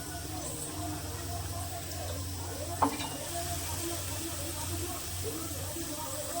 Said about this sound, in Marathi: आता त्या पण मस्त अशा परतून घेते मसाल्याने